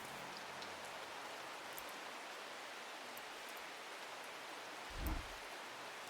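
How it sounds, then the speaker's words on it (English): Steady rain in the video game Strange Horticulture, an even wash of falling drops that runs unbroken throughout, with a soft low thump near the end. "It has been raining for a while"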